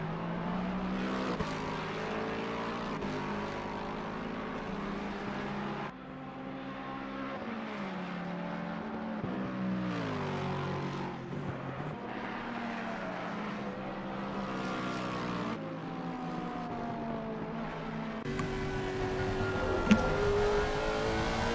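Race car engines at the Hungaroring in a sim racing charity endurance event, a steady high whine rising and falling through gear changes, moderately loud and continuous with no talk.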